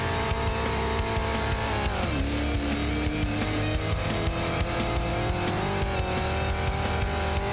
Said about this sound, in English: Different engine noises, which is nice, as you find your preferred vehicle.